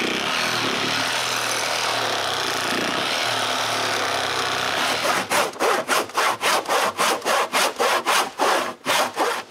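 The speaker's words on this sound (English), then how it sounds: "When I have something that the sawzall can follow," Sawzall reciprocating saw cutting wood for a cottage woodshed: a few seconds of harsh, continuous buzzing give way to a loud, steady back-and-forth rhythm of saw strokes biting through the wood, close and unaccompanied by speech.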